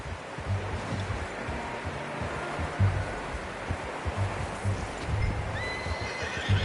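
A horse in the Western video game Red Dead Redemption 2 whinnies over the clip-clop of hooves, with a soft ambient wash behind the steady footfalls.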